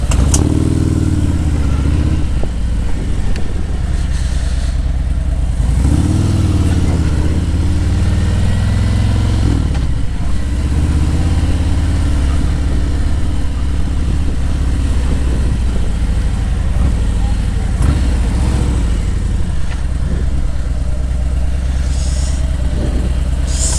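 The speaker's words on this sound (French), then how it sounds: "Voilà pour le petit essai de ma nouvelle moto." A Harley-Davidson Road King motorcycle on a test ride rumbles loudly and steadily from up close. Its engine rises and falls through several gear changes against constant wind and road noise.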